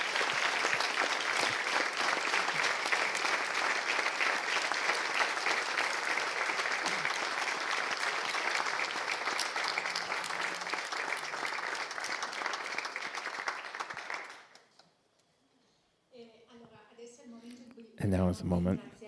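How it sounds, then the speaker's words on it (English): Audience applauding at a 25th anniversary celebration at the Temple of Light, a long, loud, dense roll of clapping that fades out, followed by a pause and then people talking. "And we get some applause for the masters."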